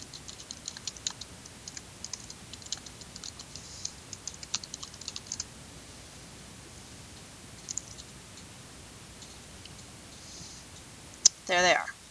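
Rapid clicking of computer keyboard keys as someone types a search query, a steady run of light taps fairly faint and close, ending with a louder burst of handling noise.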